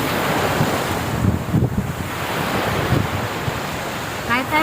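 Ocean waves wash onto the beach at Fortune Island in a continuous broad roar, mixed with wind buffeting the microphone and faint voices in the background.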